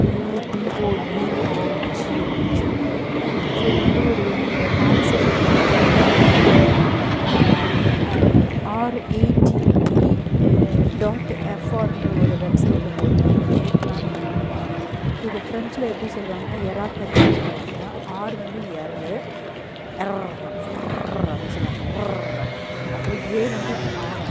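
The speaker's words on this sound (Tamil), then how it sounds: "ஸோ இந்த ரோட்டில் வந்து நிறைய வண்டியெல்லாம் போயிட்டுருக்கு." Many vehicles pass along a busy Paris street, a continuous roar of traffic with swells as cars go by, while a person talks over it throughout.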